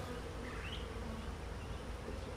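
Honeybees at a beehive during preparation for a nectar flow make a dense, steady buzzing hum close by, continuous and even throughout with no voices.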